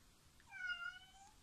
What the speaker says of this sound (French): Ça c'est le chat.